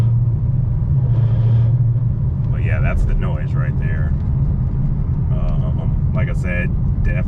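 Car under light throttle with a noise coming from inside the transmission, a steady low rumble of the drivetrain heard from inside the cabin while people talk over it.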